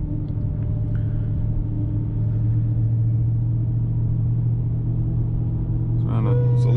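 A 1100HP Dodge Charger Redeye Widebody on drag radials drones with a deep, steady engine rumble from inside the cabin, holding low throughout as it downshifts from seventh to fifth, with a brighter rise near the end.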